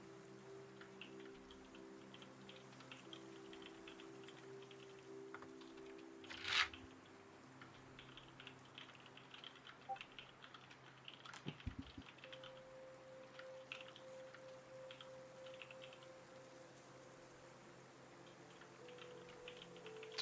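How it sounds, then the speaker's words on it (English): Faint, steady clicking of a computer keyboard being typed on, soft irregular keystrokes spread through the whole stretch over a low background hum, with one louder knock partway through and no talking. "Sorry, I'm typing up something."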